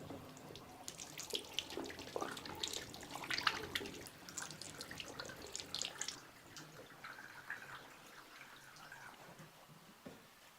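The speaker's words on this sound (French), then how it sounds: "on peut vider l'eau savonneuse." Soapy water drains from a mini washing machine, a faint splashing, trickling flow with irregular gurgles that thins out and quiets over several seconds.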